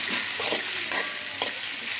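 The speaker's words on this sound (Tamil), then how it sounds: "இப்போ தக்காளி நல்லா வதங்கட்டும்." Tomatoes sauté with salt in a pan, a dense close hiss of frying with soft stirring swells throughout.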